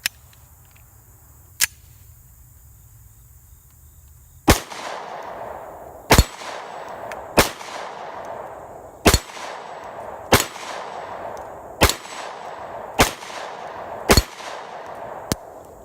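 Rock Island Armscor 1911 10mm pistol fired outdoors: two separate early shots, then a steady string of about nine loud, sharp reports roughly a second apart, each trailing off in a ringing echo.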